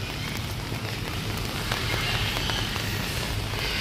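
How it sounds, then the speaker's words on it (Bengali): Steady, dense patter of rain falling on a surface at Alipore Zoo, Kolkata, a continuous hiss with a low rumble underneath and no voices. "দেখো বৃষ্টি হচ্ছে জম্বের"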